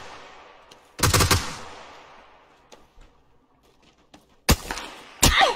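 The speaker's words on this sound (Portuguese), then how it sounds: "Ah, tô tomando tiro de longe." Bursts of video game gunfire: a rapid automatic volley, then a quiet stretch with scattered faint shots, followed by two more sharp bursts near the end.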